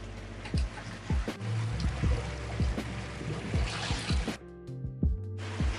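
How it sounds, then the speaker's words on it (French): Sailboat motoring under its engine across a calm Caribbean sea, with a steady low engine drone underneath regular soft pulses and a light wash of water around the hull. "là on est obligé de mettre le moteur"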